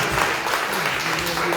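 A congregation at a Christian testimony festival applauds, a dense, steady burst of many hands clapping close by, with a voice speaking over it.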